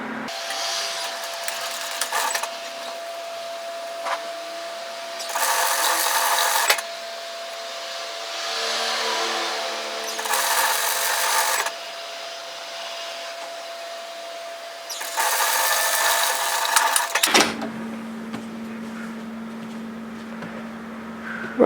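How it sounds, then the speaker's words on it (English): An electric sewing machine runs in several bursts of a few seconds each while stitching a seam on a mesh produce bag, with quieter pauses between runs and a steady hum near the end. "And sew that seam at 1 centimetre,"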